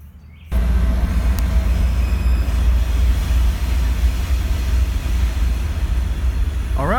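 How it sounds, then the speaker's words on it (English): Amtrak passenger train pulling into the Greenville, South Carolina station, a loud steady low rumble that holds throughout, with faint brake squeal rising near the end. "All right, this is my train."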